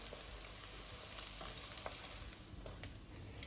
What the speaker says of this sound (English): We'll fry our meatballs now. We'll fry this until golden brown.